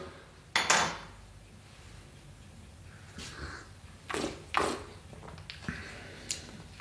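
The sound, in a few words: stirring coffee in a French press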